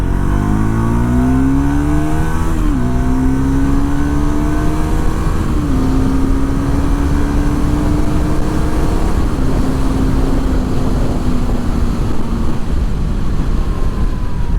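Steady Triumph Tracker 400 motorcycle engine drone at highway speed, with gear-shift pitch drops and a rising whine, plus constant wind rush throughout; no talking.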